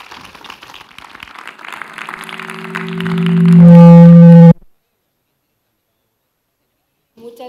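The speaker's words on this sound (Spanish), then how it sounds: "Pido un fuerte aplauso para nuestros invitados" An audience at a round-table panel on essential and critical service operators applauds the guests, a dense crowd patter that swells while a loud sustained electronic tone rises over it, then cuts abruptly to silence.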